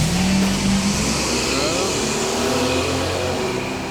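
A stock-motor drag racing car revs loudly and steadily at the strip, its engine roar dominating and easing slightly toward the end.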